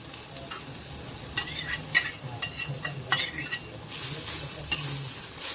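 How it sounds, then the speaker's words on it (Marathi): Grated fresh turmeric sautéed in ghee for halwa over a low flame, with a steady close sizzle and repeated scraping and stirring strokes of a spoon against the pan, and no voices. "आता याच्यामध्येच आपल्याला हळद छान पाच सहा मिनटं आपल्याला परतून घ्यायची आहे"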